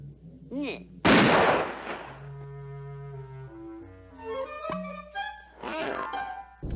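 Gunfire in the video game Empyrion, a sharp loud burst of shots followed by a dense spread of electronic game tones and effects, with further quieter bursts near the end.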